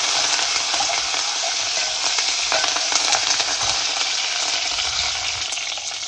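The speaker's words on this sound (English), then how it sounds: "After adding coriander, mint and curry leaves, you need to stir it for 30 seconds." Mint, coriander and curry leaves get stirred into dal over a low flame, a steady, dense sizzle of frying with faint scraping of the stirring spoon, continuous and close.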